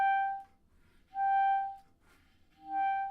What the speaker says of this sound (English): start the air a little bit and then kick the reed off with the tongue